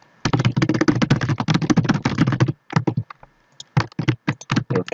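An email address is typed on a computer keyboard, with rapid, close, crisp key taps in a dense run, a short pause, then scattered bursts of keystrokes in a quiet room; no talking.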